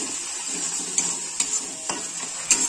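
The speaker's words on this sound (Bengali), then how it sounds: "একটু নেড়ে চেড়ে নিচ্ছি।" Fish curry with salt is stirred in a pan: a few scattered scraping clinks of the spoon over a faint continuous sizzle, close by.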